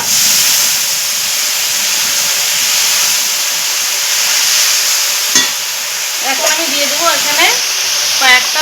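Water hits hot masala frying in a pan and sets off a loud, continuous steamy hiss that fills the whole stretch. A voice speaks briefly over it toward the end.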